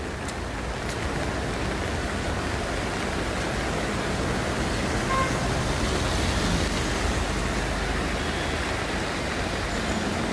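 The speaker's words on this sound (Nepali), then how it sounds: "खोला झन्झन ठुलो भइराखेको छ।" A swollen river rushes in flood beside a road, producing a loud, unbroken roar of churning water that holds steady throughout without any voices.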